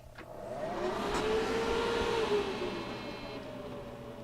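A Dell XPS 720 desktop computer attempting to power up, its fans spinning up into a loud steady whir with a rising then falling tone, holding at a strong drone for several seconds with no talking.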